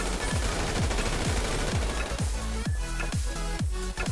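Rapid automatic gunfire in GTA 5 Online, an adversary-mode match, with bursts of shots cracking in a steady rhythm and a loud, continuous barrage that thickens toward the end.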